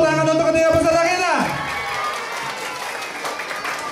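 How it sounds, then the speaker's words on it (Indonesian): Audience clapping for three finalists at a children's preacher competition grand final, starting under a held musical tone that drops away, then continuing as steady crowd applause with some voices. "Tepuk tangan untuk ketiga peserta kita."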